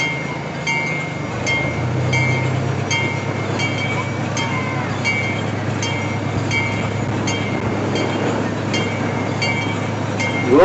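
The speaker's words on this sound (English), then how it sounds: "Train ride to the zoo." The Tulsa Zoo Railroad train rolls along steadily, with a constant low rumble and regular clicking of wheels over rail joints, heard up close from aboard the ride.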